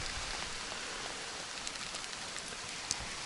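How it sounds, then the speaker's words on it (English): Heavy rain pours down steadily outdoors among ruins, a dense, even hiss of drops close by with a faint sharper patter now and then, no voices. "It is bucketing down"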